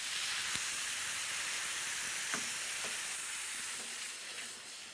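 Apple juice concentrate hisses and sizzles steadily in a hot pan as it deglazes the base of a sauce, a continuous close steam hiss with a few faint clinks.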